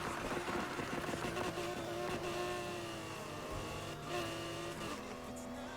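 Ford Mustang tuned to 1100 horsepower in Need for Speed Heat revving hard while sliding sideways, a loud sustained engine roar with shifting pitch and tire hiss, no talking over it.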